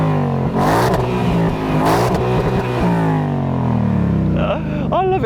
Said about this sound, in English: go and rev it up all the way